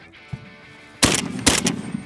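A shotgun fires twice at an outdoor range, each blast loud and sharp with a ringing decay, about half a second apart, after a quieter faint thump earlier.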